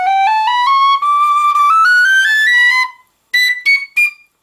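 A Chris Wall custom Celtic tin whistle plays a clear, bright melody of stepping notes close up, rising through a phrase, then a pause and three short separate notes.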